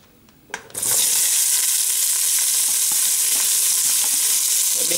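Onions dropped into hot oil in a pan burst into a loud, steady sizzle after a brief quiet start and a clatter, continuing strongly without pause.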